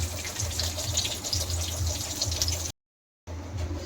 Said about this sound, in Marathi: त्याच्यामध्ये मी कढीचं पाणी ओतणार आहे